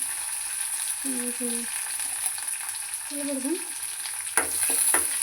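Onion fries for a tempering in a clay pot, with a soft, steady sizzle under short spoken phrases, then sharper utensil knocks and louder crackling near the end.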